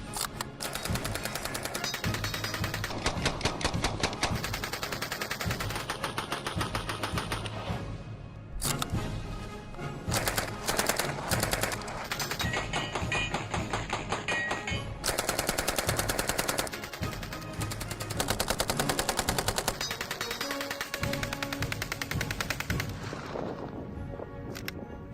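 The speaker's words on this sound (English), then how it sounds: "this is the renowned MP40 submachine gun" A German WWII-era MP40 submachine gun fires loud, rapid automatic bursts that run almost continuously for about 25 seconds, broken only by brief pauses, with no voices.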